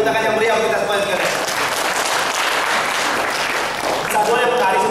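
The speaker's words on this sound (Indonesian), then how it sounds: "berikan tepuk tangan yang meriah kita semua sekalian" Loud, dense audience applause at an Indonesian-language gathering, filling the whole stretch with continuous broadband clapping while a tonal voice or music sits underneath at the start and end.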